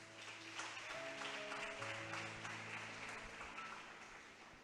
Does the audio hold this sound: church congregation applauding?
yes